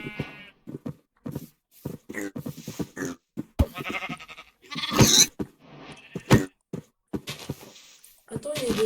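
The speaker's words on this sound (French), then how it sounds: "il y a un mouton." Sheep bleating in a Minecraft hardcore survival game, several short bleats scattered amid game sounds, with a person talking over them throughout.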